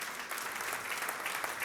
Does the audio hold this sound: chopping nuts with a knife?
no